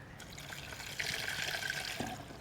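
About a cup of water poured into a Vitamix blender holding solids for torta ahogada sauce, a steady close trickle and splash that grows a little louder midway, heard alone.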